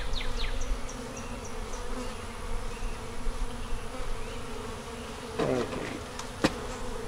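Honey bees buzz around an open hive during an inspection, a continuous dense drone close by with individual bees passing nearer, plus a couple of brief handling knocks near the end.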